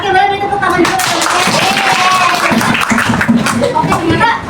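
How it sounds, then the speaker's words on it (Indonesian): A class of young pupils claps together in applause, a dense burst of hand claps filling the room, with voices talking over it. "Oke, boleh beri tepuk tangan dulu."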